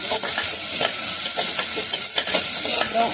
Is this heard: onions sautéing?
yes